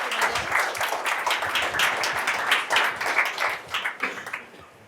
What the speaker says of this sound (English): So if I could give a round of applause